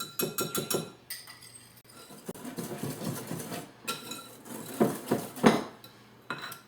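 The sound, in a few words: whisking pumpkin puree into batter in a bowl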